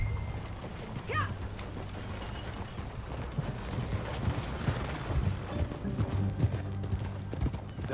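Horse hooves clip-clop steadily in the open-world western game Red Dead Redemption 2, a continuous rhythmic trot at moderate distance with faint mechanical and tack sounds beneath.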